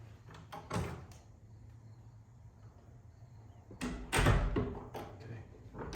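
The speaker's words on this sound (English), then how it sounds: "This door swings shut." A door in an old mansion swings shut during a night investigation, with a quiet creak early on and a louder knock of wood meeting the frame a few seconds later, in a hushed room.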